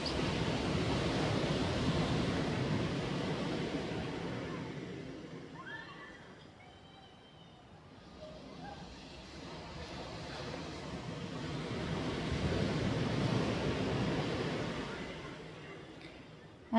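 Ocean waves rolling in slow swells, a broad soft surf wash that rises, fades to a lull midway, then builds again, steady and moderately distant with no voices.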